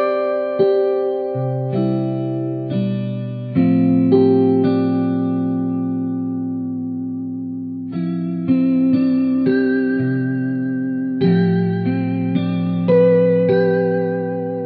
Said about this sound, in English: the warble control is controlling wow and flutter, which adds some pitch modulations and makes it sound a bit more like an old broken cassette